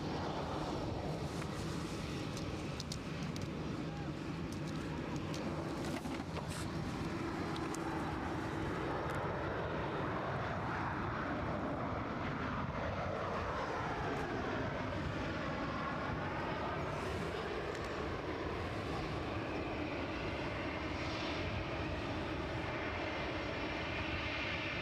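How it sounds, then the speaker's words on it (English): An Air Malta airliner taking off at Edinburgh Airport, its engines building into a loud, rumbling roar with a rising, sweeping whine as it rotates and climbs away, heard alone without talk. "Malta right behind us. It's going to be close, so look at that, rotating off the deck."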